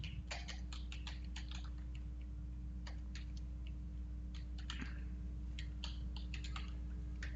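Typing on a computer keyboard to enter an email sign-in: quick irregular bursts of key clicks over a steady low electrical hum, close and fairly quiet, no voices.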